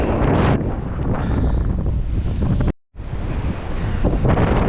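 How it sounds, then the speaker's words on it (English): Strong wind roars and buffets the microphone almost without pause, a heavy rushing blast that cuts out briefly before surging back. "I just wanted to show you how windy it was"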